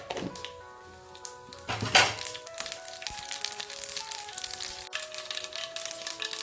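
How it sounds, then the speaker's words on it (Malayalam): Mustard seeds crackling and popping in hot coconut oil in a pan, a close, steady sizzle dotted with sharp pops and a louder burst early on, with no talking. "കടുകെല്ലാം പൊട്ടിക്കഴിഞ്ഞു"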